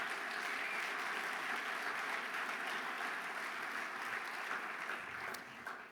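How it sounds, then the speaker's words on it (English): Steady applause from a large conference audience at an annual meeting's opening plenary session, a dense, even wash of clapping heard at a distance, fading slightly near the end. "So let's give them all a big round of applause"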